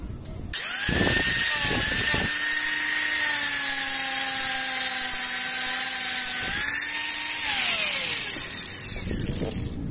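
A steady, high-pitched power-tool whine as a Honda Beat motorcycle wheel rim is sanded with 400-grit sandpaper, with shifting pitch as pressure changes, continuous for several seconds.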